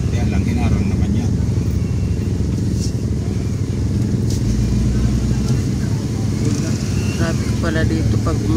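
Congested morning traffic of motorcycles and cars rumbles close by, a steady blend of idling and revving engines with occasional clatter, while someone talks over it.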